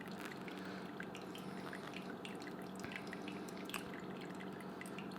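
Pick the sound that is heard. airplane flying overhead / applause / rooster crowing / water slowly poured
water slowly poured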